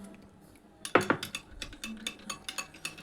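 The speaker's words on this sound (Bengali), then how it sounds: "এখন এটাকে এই দুধ আর দই খুব ভালোভাবে মিশিয়ে নেব।" A spoon clinks and scrapes against a bowl while stirring milk and yogurt together to make sour yogurt at home, giving a quick series of small, close taps.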